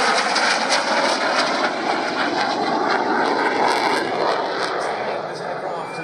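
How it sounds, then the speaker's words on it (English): Ex-Swiss Air Force Hawker Hunter F-58A jet at an air show, a loud, steady broadband jet roar sustained throughout with a slight fade at the end, while a commentator talks over it. "Here comes the ex-Swiss Air Force Hunter F-58A."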